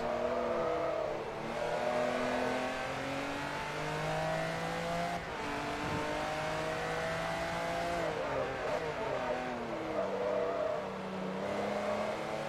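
A TVR race car in Forza Motorsport 3 roars continuously, its engine note climbing and dropping through repeated upshifts and lifts, loud and steady for the whole stretch.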